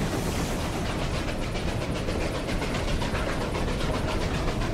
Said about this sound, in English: Here comes the train.